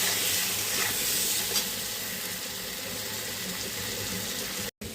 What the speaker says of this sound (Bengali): এবার অল্প লবণ আর অল্প হলুদ গুঁড়ো দিয়ে এই আলুগুলোকে লাল লাল করে ভেজে নেব।